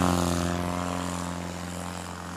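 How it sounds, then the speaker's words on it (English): A Husky A1B airplane with an O-360 engine takes off, its propeller engine droning in a steady, humming tone that fades gradually as it climbs away. "Come on, Alan. Pull those flaps and rotate. That was a nice, clean takeoff."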